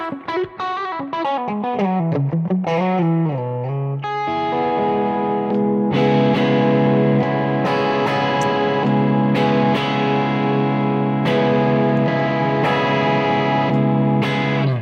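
Heavily overdriven electric guitar with Suhr Thornbucker+ PAF-style pickups playing a descending lick, then sustained distorted chords ringing out loudly with thick saturated tone.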